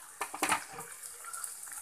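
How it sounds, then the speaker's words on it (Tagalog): Water, about half a cup, is poured into a pot of mixed vegetables for pinakbet, giving a short splashing burst followed by faint trickling and light kitchen clatter. "Lagyan po natin ng konting tubig."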